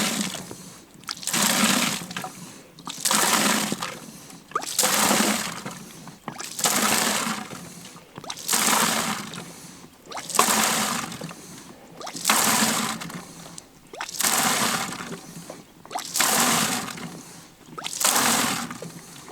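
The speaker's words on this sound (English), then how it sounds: "So I'm gonna see how long it takes me to fill this bucket up here." A high-pressure pump pushes water into a bucket at a cabin in the snow. The water gushes in regular surges about every two seconds, roughly nine strong pulses with brief quieter gaps, close and alone.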